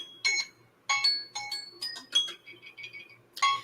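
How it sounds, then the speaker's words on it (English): Several bright bell strikes ring out in an irregular sequence, each chime decaying with shimmering overtones. "You hear the bells, Perlita?"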